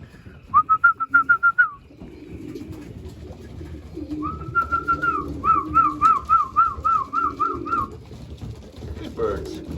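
Racing pigeons call near a loft, with rhythmic whistling trills and soft cooing phrases repeated in short series, fairly close, over faint background noise.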